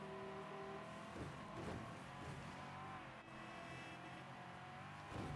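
A car engine in the video game Mafia 3 Definitive Edition hums and revs at a steady pace, with faint passing whooshes and a low, continuous drone throughout.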